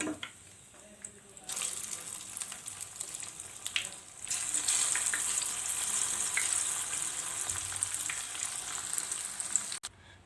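Soya chunks and curry leaves hit hot oil with a sudden sizzle after a quieter start, then a steady, close frying crackle continues, briefly dipping before surging again and ending with a clunk.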